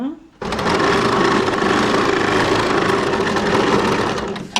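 A sewing machine runs steadily as it stitches a seam on a baby frock, starting abruptly after a brief pause and holding a loud, continuous whir for about four seconds before easing off at the end.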